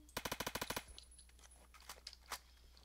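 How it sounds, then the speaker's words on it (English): Video game gunfire shot through a wall: a rapid automatic burst of about nine sharp shots, then a few scattered fainter impacts and one louder shot after a pause. "Someone trying to shoot me at the wall."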